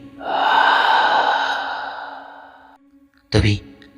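An eerie breathing sound effect: a long, drawn-out breath with a breathy, hollow tone fades over a few seconds, followed by a short, sharp intake of breath near the end.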